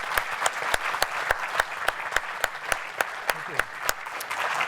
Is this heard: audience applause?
yes